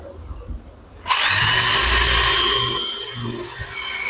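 A power drill boring holes in aluminium sheet during fabrication of an aluminium cupboard, starting abruptly after a quiet second and then whining loudly and steadily up close, tapering slightly toward the end.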